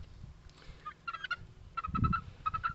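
Ten-week-old Buckeye chicks, an American breed from Ohio, making a run of quick repeated clucking and gobbling calls close by, in short rhythmic bursts.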